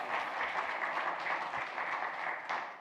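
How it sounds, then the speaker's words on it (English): A church congregation gives a warm round of applause, continuous mid-level clapping throughout with no voices over it. "Give them a round of applause."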